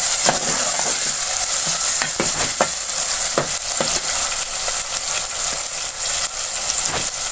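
Chopped green capsicum frying loudly in a pan for an aloo shimla mirch dish, a strong close sizzle punctuated by regular scraping stirs of a spatula.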